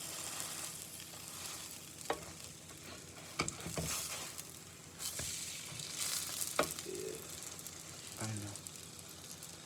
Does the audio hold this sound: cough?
no